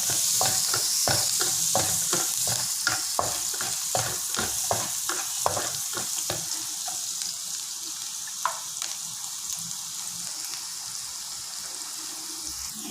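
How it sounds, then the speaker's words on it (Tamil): Garlic frying in a pan, a bright steady sizzle with rapid rhythmic scraping of stirring through the first half, then a calmer hiss with an occasional knock, close up. "இப்போ பூண்டை போடுறேன். இந்த பூண்டு நல்லா வேகட்டும்."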